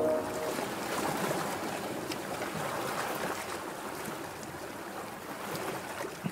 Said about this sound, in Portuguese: Contemple essa praia